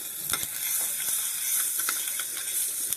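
Fish livers fry in a pan. A close, bright sizzle runs throughout, with a few sharp crackles and pops standing out over the steady hiss.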